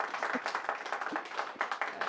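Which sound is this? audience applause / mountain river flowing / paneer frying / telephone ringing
audience applause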